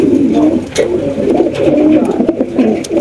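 Pigeons coo continuously in low, rolling murmurs, close and fairly loud, with a few sharp clicks and rustles among them.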